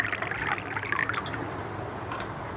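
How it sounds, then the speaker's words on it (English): Water pours into a glass in a short, close trickle with bright splashing that fades near the end. "Can you hear the sound of water?"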